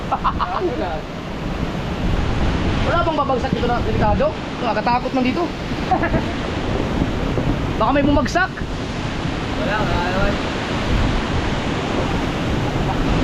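Typhoon Uwan wind and rain roar steadily around a house with a broken sliding door, a constant loud rushing close to the microphone while people talk anxiously over it.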